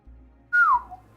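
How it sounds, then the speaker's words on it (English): A single loud human whistle, a bright falling tone lasting about a quarter second, rises sharply over a quiet low background hum during a Borderlands 1 gaming session. "That was a louder whistle than I thought."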